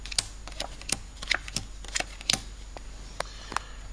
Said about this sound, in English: if I cut anywhere and then deal the first 6 cards